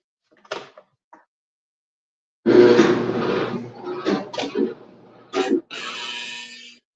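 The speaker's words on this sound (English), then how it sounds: "That drag and that noise is actually coming from the motor." A clothes dryer motor with a bad bearing starts up with a loud, dragging, grinding drone lasting several seconds, after a few faint knocks and thumps, with uneven bursts and a sustained mechanical hum toward the end.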